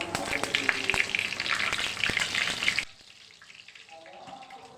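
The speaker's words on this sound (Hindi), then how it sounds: "अब इसका हम तड़का तैयार कर रहे हैं दाल का" Garlic, cumin and chilies hit about half a small cup of hot oil for a dal tadka, crackling in a loud dense sizzle with sharp pops before it cuts off abruptly to a quiet low hiss.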